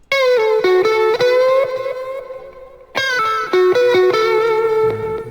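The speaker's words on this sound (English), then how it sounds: "And then I'm gonna turn on the reverb." Distorted electric guitar chords ring out, each one trailing off in a wide, washy reverb tail, with a brief pause before the phrase repeats.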